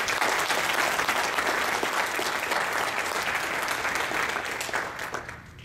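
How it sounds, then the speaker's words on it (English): Audience applause for the program committee at the MWSUG 2012 closing session, sustained loud clapping from a conference crowd, steady before tapering off near the end. "So please, a round of applause to my program committee."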